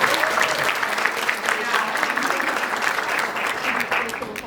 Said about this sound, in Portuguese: Queria uma salva de palmas para a Luana.